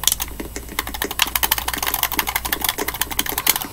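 Rapid keystrokes on a computer keyboard, a dense stream of close, crisp clicks with uneven rhythm and no talking, heard during a musical-chairs guessing game.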